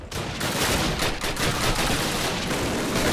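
Sustained gunfire from a weapon in the 2003 Call of Duty game, dense and loud, a rapid unbroken stream of shots filling the whole stretch.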